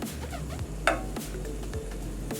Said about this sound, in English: A good sizzle going on.